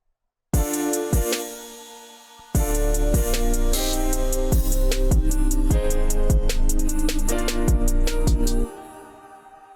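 An 808 bass and kick beat programmed in FL Studio, with a deep kick and sustained tuned 808 bass notes repeating at a steady rhythm alongside melodic layers, loud and close, with no talking.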